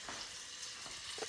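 Butter melts in a pan for a chocolate cake, a soft, quiet, continuous sizzle with faint crackles.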